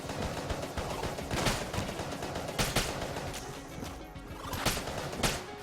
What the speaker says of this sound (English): Use up the rest of this carbine ammo.